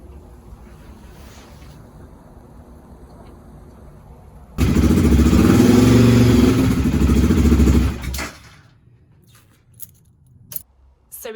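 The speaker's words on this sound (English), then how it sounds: "started the bike up again, but it continued to stall" BMW F650 GS motorcycle with a stalling fault cranks and catches, its single engine roaring loud and close for a few seconds before cutting out, followed by faint clicks and rattles in a quiet workshop.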